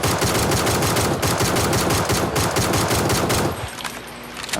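Sustained automatic gunfire in a video game shootout, a dense, loud rattle of rapid shots that cuts off abruptly near the end, leaving quieter ambience.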